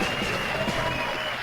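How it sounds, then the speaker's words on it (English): A live esports crowd at an i46 LAN event erupts in a sustained roar of cheering and clapping, dense and even throughout, with a commentator's voice faintly mixed in. "crowd blowing up on that"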